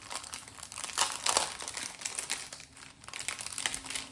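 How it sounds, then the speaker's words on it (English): Stickers sealing a happy mail envelope are torn and the paper is opened. Close, soft crinkling and tearing rustles come in irregular bursts, with no voice. "It sucks when I have to rip these stickers because you're so cute."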